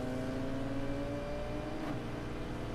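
Racing car engines in Need for Speed Payback hold a steady, loud drone with a high whine, running continuously with no voices over it.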